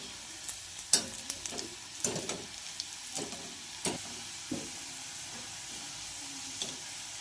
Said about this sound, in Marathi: तर हलक्या हाताने आपल्याला छानपैकी असं मोदक फ्राय करून घ्यायचे आहेत